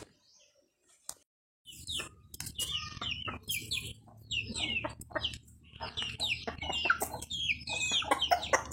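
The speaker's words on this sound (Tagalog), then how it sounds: "Huhulihin natin yung manok kasi isa rin yun sa mga materialis na kakailanganin natin." A chicken clucks and squawks in agitated, close bursts while being caught, with scuffling and rustling underneath after a quiet opening.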